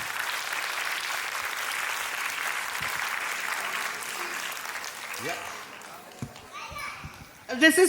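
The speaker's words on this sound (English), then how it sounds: "A big round of applause for Dr." An audience at a Kathak dance performance gives steady applause that fades out midway, followed by scattered voices and children's chatter.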